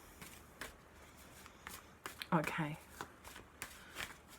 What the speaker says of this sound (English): I'm just being guided to shuffle extra